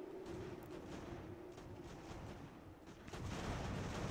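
Artillery fire from a Revolutionary War battle in the strategy game Ultimate General: American Revolution, a low continuous rumble of distant cannon and battle noise, steady and muffled, swelling slightly toward the end.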